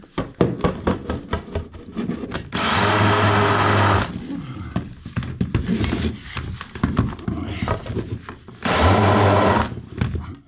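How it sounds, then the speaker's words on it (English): A power drill countersinks screw holes during flooring and panelling renovation work, whirring in two sustained loud bursts of a couple of seconds each between clattering handling noises, with no talk. "Next thing is I want to countersink those. So back to this drill."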